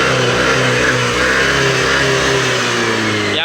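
Yamaha Aerox 155 scooter engine, freshly repaired with a cleaned injector, revving hard and steadily up close, a loud continuous mid-pitched drone with slight rises in pitch.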